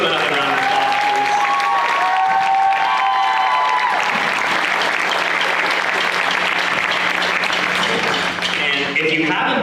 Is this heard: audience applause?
yes